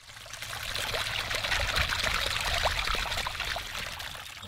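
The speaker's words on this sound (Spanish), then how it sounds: "las dos espías van a insufrinar a los monstruos con las suyas pistolas de agua" Cartoon water pistols spray water on monsters, a steady rushing pour of liquid that holds at an even, fairly loud level throughout with faint sputters, heard alone without voices.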